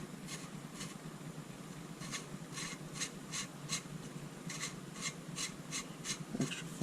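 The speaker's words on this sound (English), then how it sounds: "extra fine rasp file, and we'll see where that gets us." An extra fine rasp file works a rocket nosecone, giving a steady run of dry, scratchy back-and-forth strokes in clusters, close and fairly quiet, with no talk.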